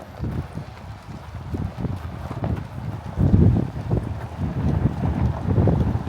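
Gusty wind buffets the microphone with low rumbling bursts, along with some hollow knocking sounds; no one speaks.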